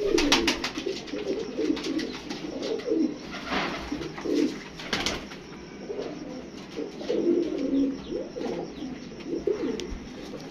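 Black Moti pigeons cooing close by, repeated low throaty coos in uneven bursts, with scattered wing flutters and small knocks in the loft.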